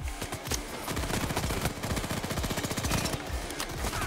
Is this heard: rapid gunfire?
yes